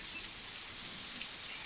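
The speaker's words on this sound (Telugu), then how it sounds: "వర్షం భారెత్తున వస్తుంది" Heavy rain pours down in a steady, dense hiss with no break, and no voices are heard.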